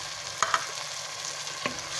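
Peas frying in a pan for aloo matar, stirred with a few sharp scrapes and clacks over a steady low sizzle, close and fairly quiet.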